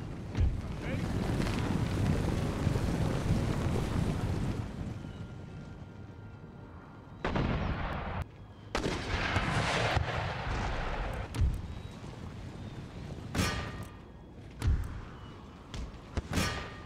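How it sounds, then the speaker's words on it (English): Mortar artillery fire in the Empire: Total War video game: a sustained broadband rumble followed by several heavy booming blasts at irregular intervals, loud and distant-sounding. "Oh yeah, you guys better run. Because they got mortars."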